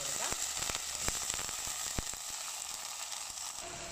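Ginger and garlic sauté in a pan for Kerala-style fried rice, giving a steady close sizzle with a few sharp clicks and scrapes of stirring throughout, no talk.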